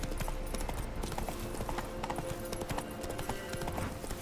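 A horse gallops in The Witcher 3, with rapid, continuous hoof clip-clops at an even rhythm, faint and close, joined by brief whinny-like tones.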